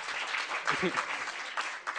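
Brief audience applause and cheering blends with a voice speaking over it.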